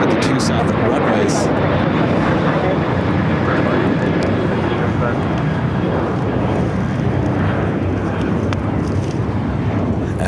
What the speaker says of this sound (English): We got all the A380s taking off here on the south side as well.